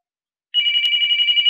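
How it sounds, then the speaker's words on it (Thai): A telephone starts ringing after half a second of silence, a loud, continuous electronic warble that trills rapidly and keeps going to the end. "แป๊บนึงครับโทรศัพท์มา"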